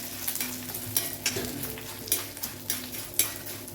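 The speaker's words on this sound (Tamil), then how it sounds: "இப்படி நம்ம செய்யும்போது சவுண்டு வருது பார்த்தீங்களா, அந்தளவுக்கு கடலைப்பருப்பு உளுந்து பொரியணுங்க ஆயிலையே" Chana dal and urad dal sizzle and crackle as they fry in oil for a seed chutney, with a spoon stirring and scraping the pan at a steady, repeated pace.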